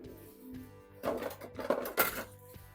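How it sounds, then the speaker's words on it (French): Dishes and utensils clink and clatter in a kitchen while a pear-vanilla shortbread tart is made, several close, bright knocks in a short burst after a quieter start. "un peu de vaisselle qui revient"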